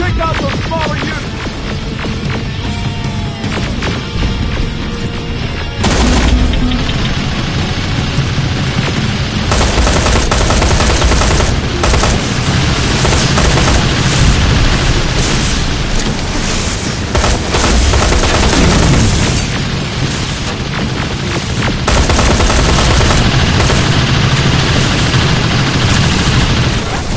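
Sustained gunfire aimed at robots in Terminator Resistance, with rapid machine-gun bursts, heavy booms and explosions layered densely and loudly throughout, broken only by brief lulls.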